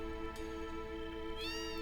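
Cats meowing in the cat house of the Final Fantasy 7 video game, a short rising game meow over a continuous droning game soundtrack.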